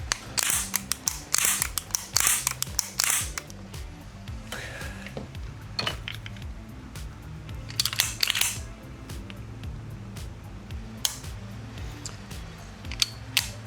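Trigger and hammer releasing on a TISAS 2011 pistol being tuned, a series of sharp metallic clicks and snaps recurring irregularly, close and crisp over a quiet room.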